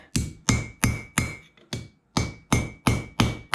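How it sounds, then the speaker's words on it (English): Hammer forging a troy-ounce silver bracelet, eight sharp ringing metallic strikes at a steady rhythm with one faint light tap between, close and alone without talk. "hammer this side down a bit"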